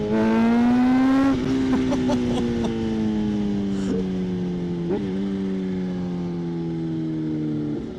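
A Kawasaki ZH2 motorcycle accelerates hard nearby, its loud, steady engine note climbing in pitch through two gear changes and holding a high whine to the end.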